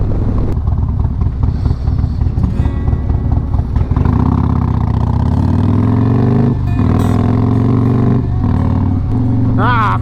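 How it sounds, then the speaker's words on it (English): A Harley-Davidson Road Glide motorcycle engine rumbles loud and close throughout, with throttle swells and shifting pitch during riding; a voice talks over it in places. "I just want to ride my motorcycle."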